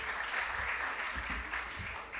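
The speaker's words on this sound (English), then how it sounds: "Give him a round of applause." Steady applause fills a hall for a contestant at a junior science and maths quiz in the Ashanti Region, a continuous even patter of many hands with low rumbling underneath.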